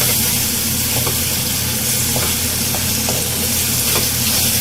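Eggplant bharta with tomatoes is stir-fried in a pan, giving a loud, unbroken close sizzle with faint intermittent stirring scrapes.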